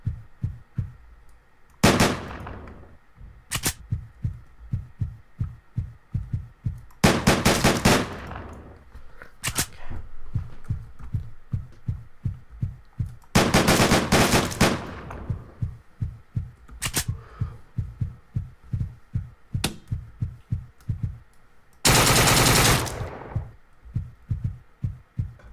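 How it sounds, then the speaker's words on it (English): Gunfire in the video game Deadbolt: rapid bursts of shots over a steady rhythmic in-game beat, with several loud, longer volleys standing out across the clip and no talking. "How many shots does it take?"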